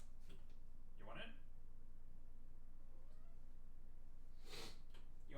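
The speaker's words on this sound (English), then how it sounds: "Cat's coming in." A house cat gives a couple of short, faint meows spaced a few seconds apart against a steady background hum.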